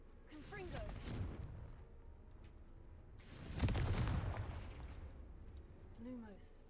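Two booming blasts of the Confringo fire curse in a Hogwarts video game, each a loud explosive burst followed by a rumbling tail, with brief spoken voices at the start and end.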